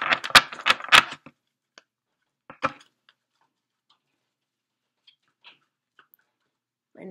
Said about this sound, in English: My neighbors are so heavy-footed. It's like clickety clack clack, clickety clack clack clack